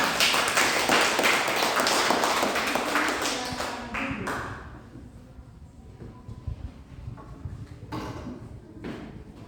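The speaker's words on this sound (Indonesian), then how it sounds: "Kita beri tepuk tangan sekali lagi untuk kelompok 3" Schoolchildren in a classroom clap for a group of classmates: a dense burst of applause for about four seconds that thins into scattered taps and quieter room noise.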